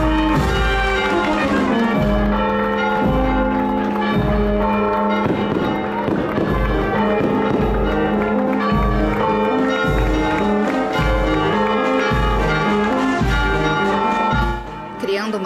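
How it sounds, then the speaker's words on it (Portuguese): Church bells peal repeatedly over music and a bustling crowd at a religious procession in the Azores, with steady low booming strokes throughout. "os sinos começaram a tocar"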